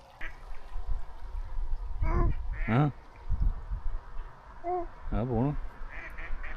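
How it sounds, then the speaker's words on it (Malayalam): Several ducks quack at a lake, loud honking calls in short bursts and a brief series of rapid quacks, heard close by over outdoor background noise with people talking now and then. "താറാവെല്ലാം പോകുന്നു"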